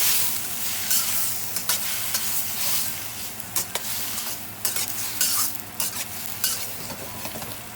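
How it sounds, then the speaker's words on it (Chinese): Shrimp and eggs stir-fried in a pan, a steady loud sizzle broken by frequent sharp scrapes and clacks of a spatula against the metal, close and continuous with no talking. "跟鸡蛋一起翻炒一下，加入虾"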